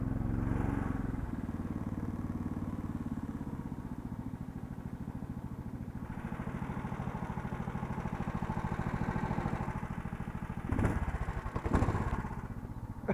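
An Uragan Universal motorized tow sled drones steadily under load in snow for the whole stretch, loud and close, its engine note rising briefly with a couple of sharp surges near the end.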